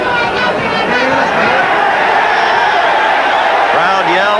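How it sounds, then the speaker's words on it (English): A hostile crowd at a 1979 WBA super featherweight title boxing fight yells and chatters loudly and continuously, a dense mass of voices filling the arena. "Crowd yells."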